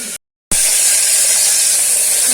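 Green chillies dropped into hot oil in a pan for a cough-leaf chutney, giving a loud, steady, close hiss of frying that continues after a brief silent gap.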